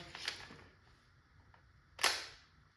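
Salt gun firing a 7.3 g no-name aluminum ball from a 0.680 bore, heard as a sharp snappy crack with a quieter click shortly before it, close and brief against a quiet background.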